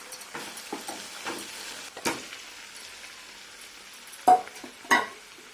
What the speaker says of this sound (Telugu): ఇలా ఫ్రై అయిపోయిన తర్వాత ఇప్పుడు ఇందులోకి చికెన్ వేసేసుకుందాం.